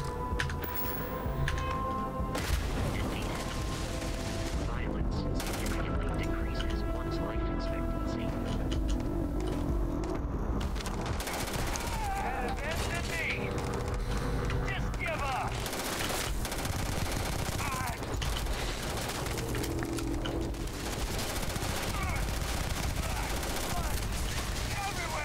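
Assault rifle gunfire in the video game Starfield, repeated loud bursts and volleys of shots running throughout amid busy combat noise, with a voice talking over it at times.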